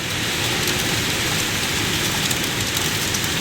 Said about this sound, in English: Oh my god, it's hail.